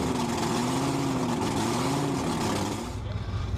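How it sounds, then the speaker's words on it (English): Blown alcohol engine idles with a deep, lumpy rumble and a slight cackle as it picks up fuel, loud and close throughout, easing a little near the end. "it'll go again from a smooth idle to a slight cackling, and then you know that the engine picked up the fuel"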